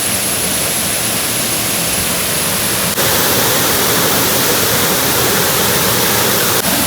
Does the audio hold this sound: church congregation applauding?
no